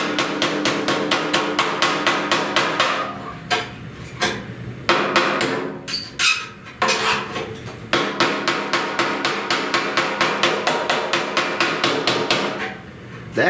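Steady, rapid metallic hammer blows on a dented steel 1969 Chevrolet C10 fender ring out close by, with a few brief pauses and irregular heavier strikes midway before the fast rhythm resumes.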